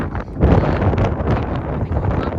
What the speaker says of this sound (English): I don't have my mics, it's super windy